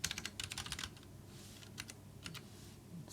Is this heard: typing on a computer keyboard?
yes